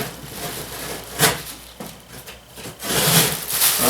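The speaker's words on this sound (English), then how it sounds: "I'll have to use my knife and dull it all up again" A knife slices and scrapes through the cardboard of a heavy shipping box in short, close rasping strokes with brief pauses, growing louder and more continuous toward the end.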